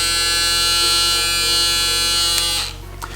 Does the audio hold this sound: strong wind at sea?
no